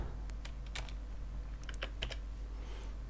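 Close-up keystrokes on a computer keyboard during copy and paste, a sparse run of quick clicks and taps in small clusters over a steady low hum, with no talking.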